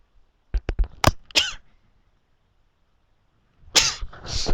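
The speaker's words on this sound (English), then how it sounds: "And I'm going to sneeze again." A person lets out sneezes in quick bursts, a sharp cluster of explosive breaths followed by a quiet gap and then another loud sneeze, all close-up.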